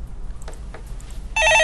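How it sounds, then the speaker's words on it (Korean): A telephone starts ringing near the end with a loud, bright electronic trill, following a stretch of quiet faint room noise and a few small clicks; it is heard during a Korean stock-market call-in show. "전화 받아보겠습니다"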